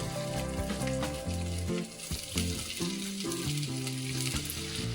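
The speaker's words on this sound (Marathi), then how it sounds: "तेल तापवल्यावर आणि एक एक पीस आपण ह्याच्यात शालो फ्राय करून घ्यायचं" Pieces of fasting-flour (bhajani) fries shallow-frying in hot oil on a low gas flame, a steady close sizzle that runs the whole time under loud, prominent background music.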